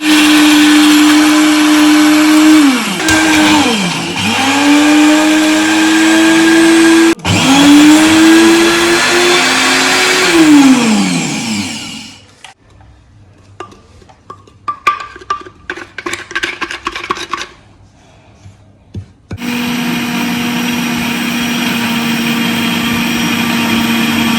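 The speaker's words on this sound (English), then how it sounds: "I'm using my blender, so I have to do it a little by bit so that I don't damage my blender" A home blender grinds ingredients for vegan protein powder, running loud and steady with brief pitch dips as the motor strains, then stopping for a stretch of scattered rattling and clicks before roaring back to full speed.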